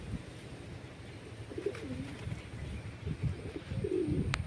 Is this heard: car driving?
no